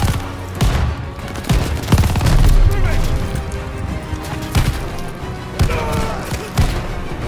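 Call of Duty Vanguard campaign battle: bursts of rapid gunfire and sharp single shots crack near and far, mixed with thuds, while soldiers shout over the fighting.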